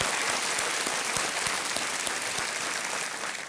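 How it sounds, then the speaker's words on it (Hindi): Steady applause from a game show studio audience, a continuous wash of clapping that holds for a few seconds and fades slightly at the end. "तालियों के साथ हम चाहते हैं कि इनका अभिनंदन किया जाए"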